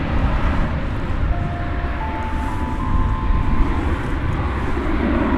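Airliner taking off at DFW Airport, a loud, sustained jet roar with rumbling low end and faint whining tones, heard from a distance with wind buffeting the microphone.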